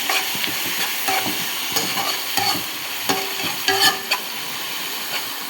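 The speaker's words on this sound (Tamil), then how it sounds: "இப்போ நம்ம பச்சை மிளகா போடணும்" Green chillies frying in a pan, with steady close sizzling and repeated irregular stirring scrapes and clinks of a spoon against the pan, no talk.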